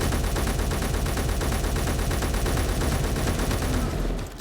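Heavy-recoil automatic weapon fire in the game Underground Alone hammers out a rapid, evenly spaced stream of loud, close shots for about four seconds, then cuts off abruptly.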